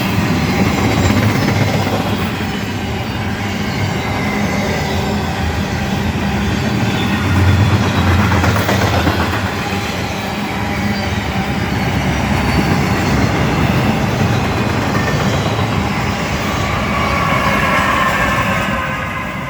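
Freight train with distributed power passing a siding at Camden, Tennessee, a loud continuous rumble of wagons and wheels rolling by close, steady for the whole stretch.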